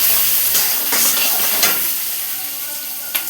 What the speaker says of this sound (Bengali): এবার পেঁয়াজ কুচি দিয়ে দিলাম। অল্প পরিমাণ নুন, অল্প পরিমাণ হলুদ দিয়ে ভালো করে লাল করে ভেজে নেব।